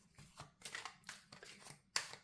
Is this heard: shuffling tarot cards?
yes